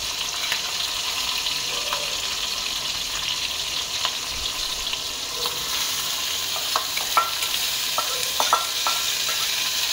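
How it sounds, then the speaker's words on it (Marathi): Ridge gourd (parwal) seeds sauté in a hot pan with a steady bright sizzle, while a spoon occasionally scrapes and taps against the pan, close up and with no talk. "ह्या ज्या पडवळ्याच्या बिया ज्या काढून ठेवल्यात ना त्या आपल्याला ह्याच्यामध्ये परतवून घ्यायच्या"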